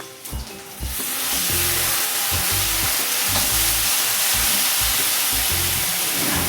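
Tomatoes drop into hot oil in a pan for frying Maggi, setting off a sudden, loud, steady sizzle with scattered stirring clinks and no talk.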